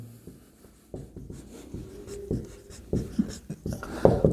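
Chalk scratches and taps across a board during a physics lesson, in short strokes with brief pauses between them, close and fairly clear with no talk.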